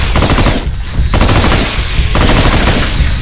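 Loud, sustained automatic gunfire in The Brookhaven Experiment VR shooter, rapid continuous bursts with brief thinner gaps, close and dominant with no talk.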